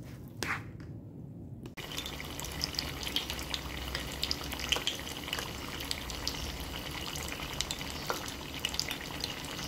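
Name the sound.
stirring frying lumpia shanghai filling in small pot with olive oil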